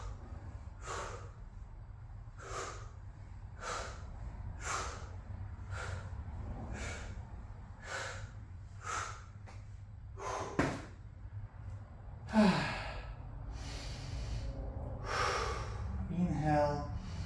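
Heavy rhythmic breathing during a garage shoulders-and-abs workout, with sharp evenly spaced exhales about every second, a couple of thumps and gasps later on, and a person talking.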